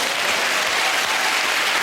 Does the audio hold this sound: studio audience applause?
yes